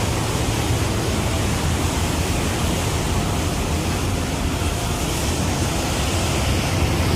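Roar of the fast, turbulent Dhauliganga and Alaknanda rivers meeting at the Vishnuprayag confluence, a loud, steady broadband rush of water that fills the whole stretch without pause.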